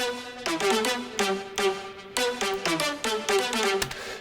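A synth lead plays a plucky, bright melodic phrase with short repeated notes and gliding pitches, loud and close with no voices.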